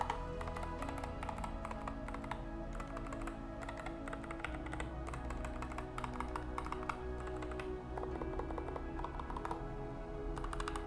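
Typing on a Nuphy Air60 keyboard fitted with Gateron Brown low-profile switches, a continuous run of quick close-up key clicks over a steady low background hum, with no talking.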